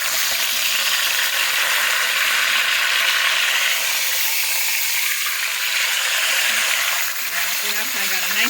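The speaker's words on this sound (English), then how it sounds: "I got a nice good sear on it." A beef roast searing in a hot pan gives a loud, steady, close sizzle and crackle that runs unbroken throughout, with faint utensil clinks near the end.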